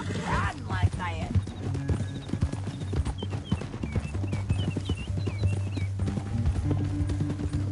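Galloping horse hooves pound in rapid rhythm in the video game Red Dead Redemption 2, loud and close, with a horse whinny and characters shouting over the ride.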